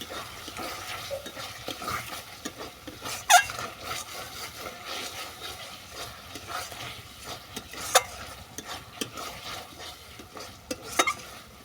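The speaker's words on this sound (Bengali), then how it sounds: "আর দিচ্ছি অল্প পরিমাণে ঘি এটাকে ভালো করে মিশিয়ে নেবো" Ingredients are stirred together with a little ghee in a pan while making badam posto potol, with a soft continuous sizzle broken by scattered sharp scrapes and knocks of a spoon against the pan.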